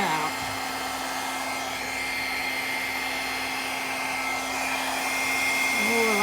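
A hair dryer blows steadily across a wet acrylic paint pour, a constant close whooshing hum with a slight rise in pitch toward the end and no talking.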